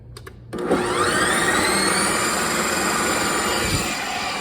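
An ice cream maker, set to light ice cream, starts with a click and spins up into a loud, steady whirring grind with a rising whine, churning protein ice cream without pause.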